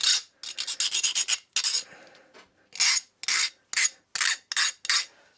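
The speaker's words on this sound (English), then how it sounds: "So I'm going to deburr that again." Metal being deburred with a hand file during bungee cord and luggage strap making: a quick run of close, crisp rasping strokes, a short pause, then several separate firm strokes in an uneven rhythm.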